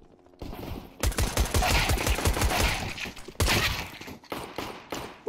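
AK rifle fire in a video game: sustained rapid automatic bursts hammer loudly and up close, cut by a short pause and then a fresh volley, with scattered single shots trailing off at the end and no voices.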